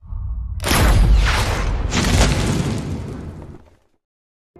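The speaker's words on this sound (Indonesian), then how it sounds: "dengan gegabahnya ia nekat melepaskan tembakan ke arah Sandra dan pemberontak tersebut" A sniper's gunshot in an action film about a legendary Chinese sniper, heard as a loud booming blast with a long rumbling tail and a second surge, lasting about three seconds before cutting to silence.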